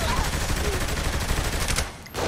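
Dense, continuous gunfire from a Saints Row: The Third firefight, rapid automatic bursts and overlapping shots filling the scene at close range, dropping briefly near the end before resuming.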